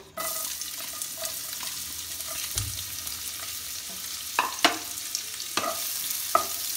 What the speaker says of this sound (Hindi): प्याज को गोल्डन ब्राउन होने तक इसको फ्राई करना है।